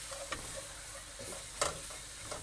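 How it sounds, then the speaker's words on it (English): Spices toast in a hot pan on raised heat for a Moroccan yellow split pea bessara, giving a steady soft sizzle with a few sharp stirring scrapes and ticks, close by and with no talking. "you just need to toast the spices for a couple of minutes"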